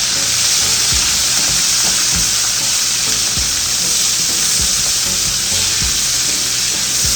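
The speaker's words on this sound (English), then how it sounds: "You want to fry the vegetables." Vegetables for fried cabbage sizzle loudly and steadily in a pan, a constant hissing fry with occasional soft knocks of stirring.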